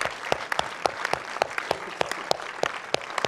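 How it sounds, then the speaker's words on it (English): Steady applause from an audience at a film Q&A event, a continuous wash of many clapping hands with a few sharper, prominent claps standing out at a fairly regular pace. "let's give a great round of applause to Eddie Brown"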